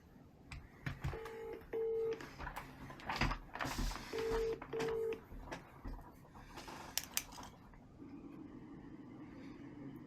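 Telephone keypad tones while dialing a client for a sales call, two pairs of short, clear beeps a few seconds apart over quiet room noise, followed by a low steady tone as the line connects.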